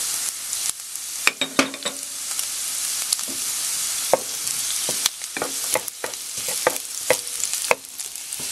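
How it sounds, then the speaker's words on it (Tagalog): Garlic sautéing in a little oil in a pan for ginisang chayote gives a close, steady sizzle broken by sharp crackles and pops scattered irregularly across the clip. "Then dito, mag-add po tayo ng konting oil. Lagay natin yung garlic."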